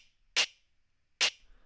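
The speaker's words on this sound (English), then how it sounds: "So the snap and the clap together sound like this." Layered snap and clap drum samples for a drum and bass drop, two crisp, bright hits about a second apart, dry and isolated with no other sound between them.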